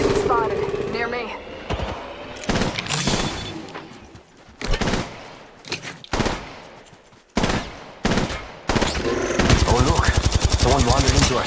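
Gunfire in Apex Legends Mobile, bursts of loud close shots and rapid automatic fire broken by short gaps, ending in a sustained fast volley, with voices calling out over the shooting.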